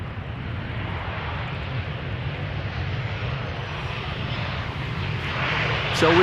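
A Boeing 747 arriving at Amsterdam Schiphol Airport gives a broad, continuous engine roar that swells slightly toward the end, heard from a distance outdoors.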